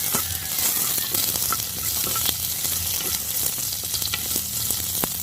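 Ginger sizzles and fries steadily in a hot pan for a South Indian kuzhambu, a dense continuous crackle with scattered sharp pops and occasional stirring, close up and with no talking.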